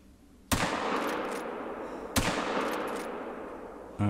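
Two loud rifle shots in the hunting game theHunter: Call of the Wild, fired at a bear, each a sharp crack with a long rolling echo, spaced about one and a half seconds apart, with a third starting at the very end.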